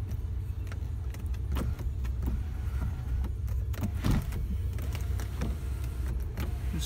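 A one-touch sunroof tilting open in a 2015 Cadillac Escalade ESV, heard as a steady low electric motor hum with small clicks and rattles from the cabin, close and continuous without talk.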